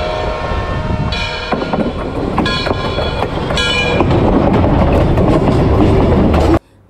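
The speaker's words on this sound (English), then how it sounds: "Do you hear the sound of a train coming?" A train rumbles close by with heavy rolling clatter, sounding several short horn blasts as it passes, then abruptly cuts off.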